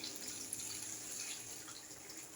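Boiled water pours steadily into a pot of frying mutton in a continuous, even stream, a soft watery rush with no talking.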